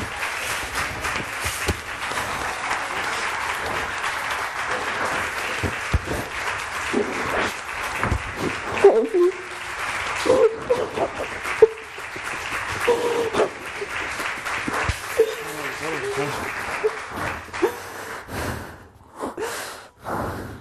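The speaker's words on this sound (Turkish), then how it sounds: "Emre'nin abisi Mustafa'yı alkışlarla stüdyomuza alalım." Applause from a television studio audience greeting a guest, a continuous rush of clapping mixed with crowd noise, breathy gasps and emotional sounds, thinning out toward the end.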